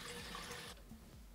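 Tap water running into a sink to rinse off a face mask, a steady splashing rush that cuts off abruptly partway, leaving a faint quiet trickle and low hum.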